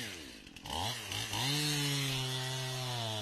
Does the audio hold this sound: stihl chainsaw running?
yes